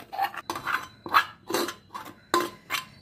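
Ragi pittu moved into a bowl with a metal utensil, giving a series of about six clinks and scrapes against the dish, close and clear, spaced roughly half a second apart.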